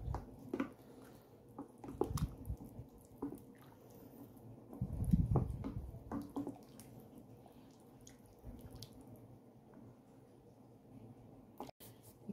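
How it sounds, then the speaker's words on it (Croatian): Blended broccoli soup stirred in a pot with cooking cream nearby, giving soft wet sloshing and gentle spoon scrapes, with a louder burst of churning midway and quieter liquid movement after it. "Sad ću to da promiješam."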